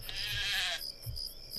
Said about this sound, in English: We have a sheep.